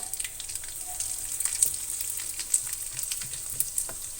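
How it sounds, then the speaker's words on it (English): Anchovies crackle and spit in hot oil, a bright continuous hiss dotted with sharp popping bursts, close and fairly loud with no talking. "We are going to throw in the anchovies now."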